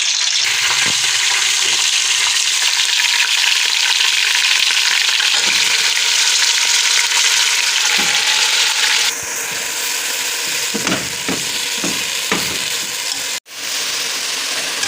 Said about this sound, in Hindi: अब जो है मैं कीमे को भून लूँगी। अब मैं इसकी भुनाई कर लेती हूँ लहसुन अदरक के साथ।